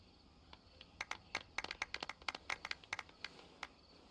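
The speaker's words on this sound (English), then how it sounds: "Let's give our champion Kaveh one last big round of applause." Sparse, quiet clapping for a tournament champion at an award ceremony in Genshin Impact, a few separate hand claps in an irregular scattering rather than a full crowd roar.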